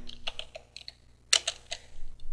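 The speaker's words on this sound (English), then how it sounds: "Let's type in grep space and let's type in our login." Keystrokes typing a command on a computer keyboard, a quick irregular run of close, crisp clicks with a louder cluster near the middle, no voices.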